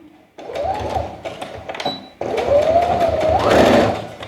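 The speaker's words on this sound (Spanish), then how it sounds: "no sé si se va a ver ahora cómo estoy cosiendo esto" A sewing machine stitches a cork tote bag in two loud, steady runs with a short pause between them, its motor pitch rising toward the end of the second run.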